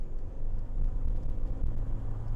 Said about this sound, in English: This is where the typical CVT drone, if that's the word, comes in